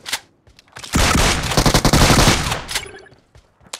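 Gunfire in the mobile game BGMI: a loud, sustained automatic burst of about a second and a half, with scattered single shots before and after and a brief spoken word.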